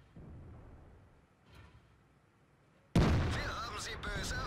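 A heavy tank cannon in World of Tanks fires once, a sudden loud boom that cuts in after a quieter stretch of low engine rumble, followed by sustained roaring and clanking.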